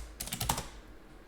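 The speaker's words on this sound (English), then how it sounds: "I don't even know what I'm typing." Quick bursts of typing on a computer keyboard, a short cluster of close, light key clicks that stops abruptly, with no voice.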